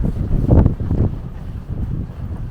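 Strong wind of about 30 mph on a cold, snowy morning at a ship docked across from Hammerfest in northern Norway, heard as loud, gusty low rumbling buffeting against the microphone, peaking early and then steadying.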